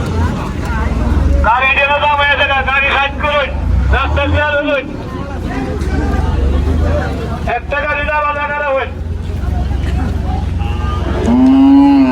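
Cattle lowing at a busy livestock market in Bangladesh where a Sahiwal breed bull is traded; several loud, drawn-out moos come close by over a constant crowd hubbub and nearby voices.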